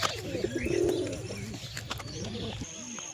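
Pigeons coo close by in a loft, low rolling calls with a few chirps and faint background noise.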